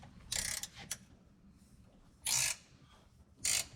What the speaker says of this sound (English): Now grab your 7/8 wrench and tighten this down.